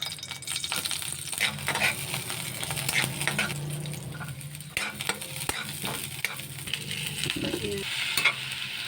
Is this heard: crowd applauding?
no